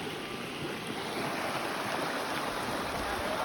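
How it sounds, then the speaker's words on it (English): Steady broadband rush of a stream flowing along the Escalante River, continuous and moderately loud with no voices, heard before wading across. "Now we're going to cross this stream."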